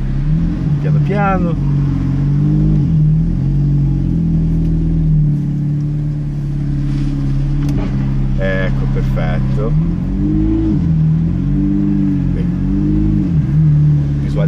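Ferrari on a test drive pulling away and accelerating hard, its engine note rising and shifting through revs, loud and close throughout, with people talking over it.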